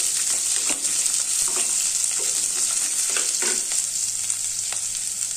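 Onion, garlic and ginger frying in a pan for a crab gravy, giving a steady bright sizzle with occasional stirring scrapes, close and continuous with no talk.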